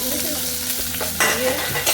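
Tomato and green chili dropped into hot oil seasoned with panch phoron, frying with a steady close sizzle and stirring scrapes, a louder burst of crackle partway through and again near the end.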